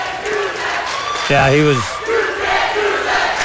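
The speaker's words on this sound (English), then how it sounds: "Is that what the crowd was going crazy about as Booth brought it up?" A basketball crowd at a Winterset at Carroll boys game roars and yells steadily, one loud shout rising above the noise, with a commentator's voice speaking over it.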